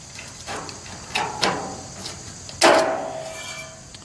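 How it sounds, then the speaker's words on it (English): Regular tin snips bite through metal siding in several short, separate cuts, each a sharp metallic crunch with a brief ring. The last cut is the loudest, and quiet pauses fall between them. "And that's how I cut metal siding with just regular tin snips."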